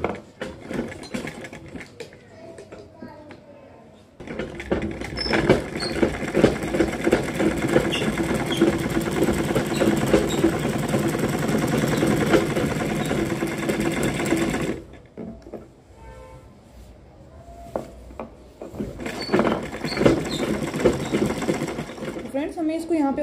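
An electric sewing machine stitching a salwar runs in a long, loud whirring burst, then stops, then starts again in shorter runs. Someone talks during the quiet gap between runs.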